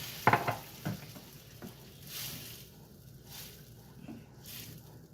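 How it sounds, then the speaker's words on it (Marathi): Boiling water is poured all at once into a cooking pot of atak matak chavali, giving a few sharp clatters and then bursts of hissing, bubbling sizzle. "माझं गरम पाणी एकदम रेडी आहे, उकळत आहे. हे मी अख्खच्या अख्खं याच्यात ओतत आहे."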